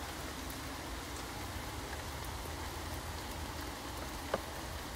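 Rain falls steadily on a man-made wooded canopy at Low Wood Nature Reserve, a dense, even hiss of drops with one brief sharper tap near the end, no voices.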